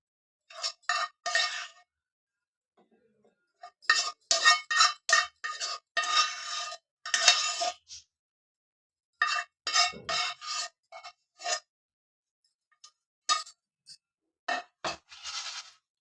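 Roasted spices drop into a mixer grinder jar in short, close bursts of clinking, rattling and scraping, separated by silent pauses, with no talking.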